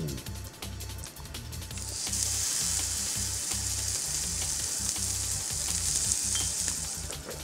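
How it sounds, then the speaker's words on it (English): Salmon and garlic sizzle and fry loudly in a pan, a steady bright crackle that swells after the fish goes in and holds throughout, with low thumps of handling underneath. "a bit of garlic in the pan. And in goes the salmon."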